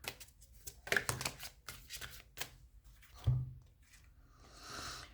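Tarot cards being shuffled and drawn produce close, quiet riffling and flicking with soft papery slaps and taps in irregular bursts, no talking.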